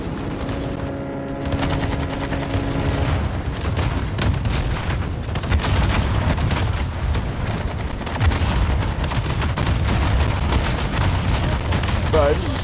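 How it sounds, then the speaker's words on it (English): A vehicle blowing up in the video game Warzone, a heavy boom amid a dense, continuous wash of gunfire and explosions that runs loud throughout, with a voice talking over the battle. "Bro, I just destroyed a vehicle right in front of me."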